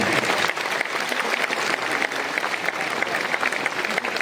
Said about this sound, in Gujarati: જોરદાર તાળીઓથી વધાવો હર્ષુભાઈ ડોબરિયાને